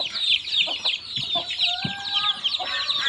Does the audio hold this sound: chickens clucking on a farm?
yes